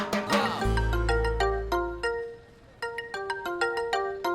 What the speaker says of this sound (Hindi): तेरा फोन बज रहा है।